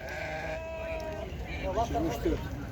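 Ewes bleating at an outdoor livestock market, several wavering bleats close by amid crowd chatter and someone talking.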